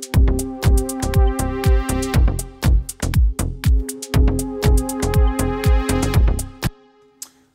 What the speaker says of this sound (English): this ramp starting from a filter position that's so low that we can't even hear the beginning of the note, and then it's becoming brighter at the end